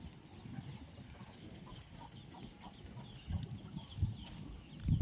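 A hen pecks and scratches through cow dung in a farm shed and gives soft, repeated clucks at low volume, with some rustling scratches underneath. No speech is heard.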